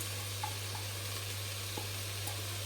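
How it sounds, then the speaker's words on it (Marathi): Soaked, washed rice for pulav goes into a hot pan and fries in a soft, even sizzle under a low steady hum, with a few faint ticks and no speech. "आता जाणार आहे ह्याच्यात भात आपला, जो आपण धुवून सोक केलेला चांगल्यापैकी."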